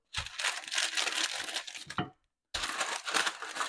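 Parchment paper crinkles and crackles loudly and close as pastry dough is rolled between the sheets for an apple rose tart, in two sustained rustling bursts split by a brief pause.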